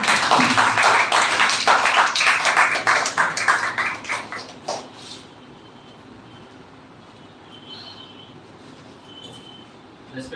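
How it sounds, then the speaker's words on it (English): Audience applause for a speaker at an Indian Constitution grand finale event, a dense, loud burst of many hands clapping that thins and fades out after about five seconds, leaving a quiet room. "So please welcome with a huge round of the clap MD Sajjad."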